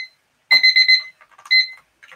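An auction timer alarm goes off, loud electronic beeps in a quick burst of four followed by a single longer tone, with faint fragments after and no talking.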